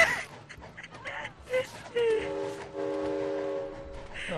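A train in the video game It Takes Two pulls into a station, sounding a sustained whistle tone after a mix of short chimes and game effects, with people talking over it.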